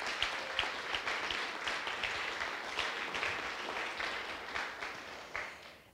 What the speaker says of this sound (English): So I think a round of applause to Lucy and the team for 10 years.